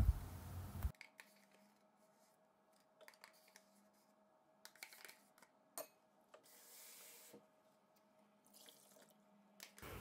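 Water is poured from a tap into a bowl holding a yogurt and flour mixture for a soup, with short splashing bursts between quiet gaps and light clinks from the kitchen, all close by and without speech.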